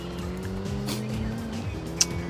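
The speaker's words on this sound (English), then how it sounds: "7-litre naturally aspirated V8, of course." Corvette with a 7-litre naturally aspirated V8 in Gran Turismo 7, a steady engine drone with shifting harmonic tones as revs rise and fall, plus a brief tire squeal near the end.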